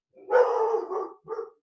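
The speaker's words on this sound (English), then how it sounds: "my dog is doing the same thing, Cheryl." A dog gives one long bark or whine-like bark followed by a shorter second one, close and fairly loud, alone with no talk.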